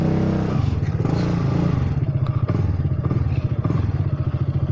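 A Honda Forza 300 scooter with a loud, damaged exhaust idles and pulses close by, its deep, rapid engine beat steady throughout with a few clattering knocks.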